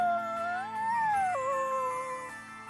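A puppy in the video game Bravely Default 2 lets out a long, wavering, high-pitched whine that rises and then dips, rather like a questioning howl, heard close and clear with faint music underneath.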